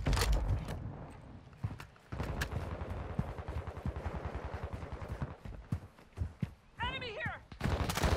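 Call of Duty: Modern Warfare II multiplayer combat with shotgun, MP5 and RAAL machine gun fire: loud shotgun blasts, a long rapid burst of automatic fire, then scattered shots and game effects, with a brief shouted in-game voice line.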